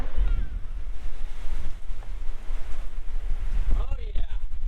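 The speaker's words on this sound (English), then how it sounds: "30-mile-an-hour winds right now?" Strong outdoor wind of about 30 mph buffets the microphone in a steady low roar, with gusty swells throughout and a brief higher whistling near the end.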